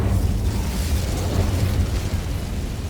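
An Incendio fire spell from Hogwarts Legacy bursts as a steady, roaring explosive whoosh with heavy low rumble, loud and sustained with no break, and no voices.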